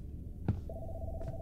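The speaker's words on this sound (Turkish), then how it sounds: "Aha telefon." Telephone ringing in the video game Dead Signal 3: a brief click, then a thin electronic ring tone that sustains and repeats over low background hum, fairly quiet and with no talk.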